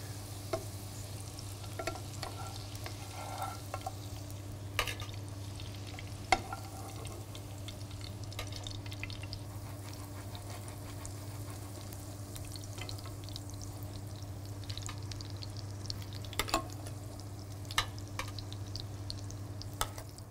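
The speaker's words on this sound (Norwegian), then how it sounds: "Nå drar vi de bare trekke ferdig litt i smøret, sånn at de får den siste fine, gode fargen." Potatoes finish browning in butter in a pan, giving a faint, steady sizzle under a constant low hum, with a few soft clicks scattered throughout.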